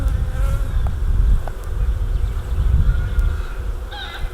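Steady low buzzing of many bees close by, a continuous droning hum with a few brief higher tones drifting over it.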